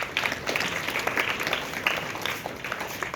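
A school morning assembly breaks into steady applause, many hands clapping in a dense, even patter that carries on for a few seconds with a faint murmur of voices beneath.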